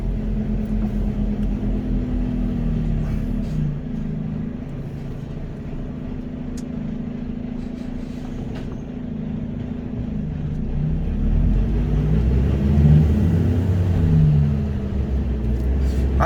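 A truck engine drones steadily through a ride, low rumbling close by with a gradual swell in intensity toward the end, no voices.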